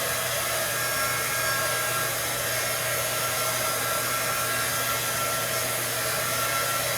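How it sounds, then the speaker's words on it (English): A heat gun runs nonstop during work on a vintage angel Christmas tree topper, a loud, steady, even whooshing roar that holds from start to finish with nothing else over it. "Plug your ears if you don't want to hear the heat gun."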